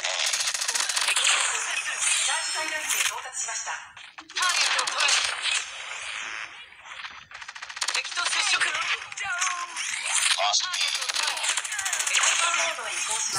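Rapid automatic M13 rifle fire from Call of Duty Mobile, dense loud bursts with short gaps between volleys, game effects layered throughout.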